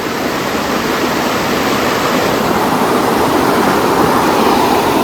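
Shenbaga Devi waterfall at Courtallam pours from a height, a loud, unbroken roar of rushing water that fills the whole stretch with no voices.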